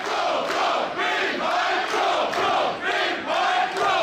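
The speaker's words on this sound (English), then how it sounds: "Listen to the fans here." A wrestling crowd at an indoor venue roars and chants in steady rhythmic swells, loud and continuous, with no other sound standing out.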